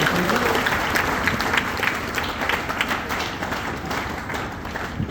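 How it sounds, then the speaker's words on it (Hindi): An indoor audience at a direct-selling event in Nainital gives a loud, sustained round of applause welcoming a speaker, many hands clapping together with light crowd noise. "एक जोरदार तालियों के साथ आपका स्वागत करते हैं।"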